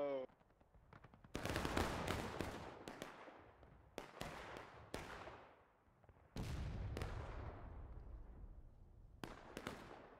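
Volleys of musket gunfire in a War of Rights battle, sharp loud reports crackling one after another in several bursts with ringing decay, some shots overlapping and a few near gaps between volleys.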